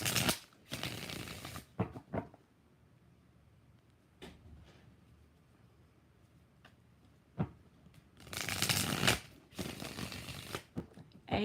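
Tarot cards are shuffled by hand, with about four distinct bursts of riffling and slapping, the longest near the start and the end, separated by quiet gaps with faint taps and handling noises.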